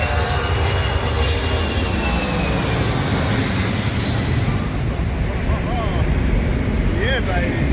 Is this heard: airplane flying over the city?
yes